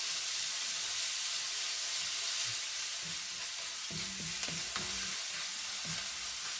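Garlic paste frying in a pan with onions, a steady soft sizzle with faint crackles and a few stirring clatters, close by and without any talk.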